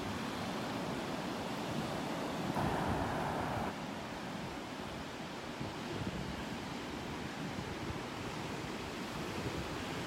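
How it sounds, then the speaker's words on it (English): Steady wind sweeps across a beach in North Naples, Florida, a broad continuous rush blended with surf. It stays fairly loud and unbroken throughout, with no one speaking. "When that wind blows, that's what gets you."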